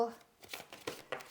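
Tarot cards from a Tarot Grand Luxe deck being shuffled by hand, a few soft crisp riffling bursts of card friction close by, following a brief spoken word.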